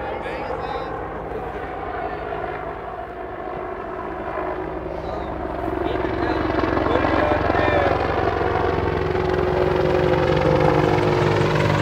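A medevac helicopter flies overhead and turns, its rotor thump and engine drone steady and growing louder toward the end, with people talking over it.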